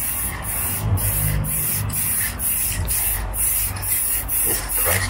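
Spray applied during a Transit van build while fitting carpet and boarding out, heard as a loud, steady close hiss broken by regular short pulses, continuous for several seconds with no talking.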